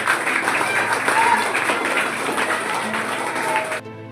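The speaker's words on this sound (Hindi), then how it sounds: "चलो ताली बजा दो एक बार।" Students in a school setting clap their hands together after a story, a busy, fairly loud patter of many hands that continues for about four seconds before stopping abruptly.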